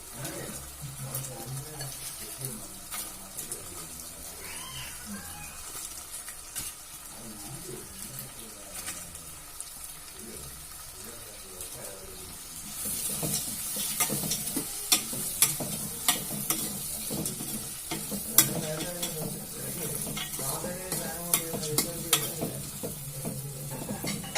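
Chopped fried potatoes are stirred into a sizzling spice paste for potato pickle, a steady frying hiss with scraping and stirring taps that grows louder and busier partway through, close and without talk.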